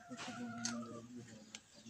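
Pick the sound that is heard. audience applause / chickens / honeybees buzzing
chickens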